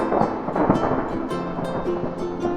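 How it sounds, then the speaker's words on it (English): A steady roar of heavy rain and wind with rumbling thunder swelling underneath, loud and continuous. "a big storm came."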